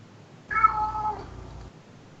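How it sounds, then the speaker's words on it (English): A house cat meows once in a drawn-out, wavering call, fairly close and clear over a quiet room, then falls silent. "I have a dissenting cat in the background."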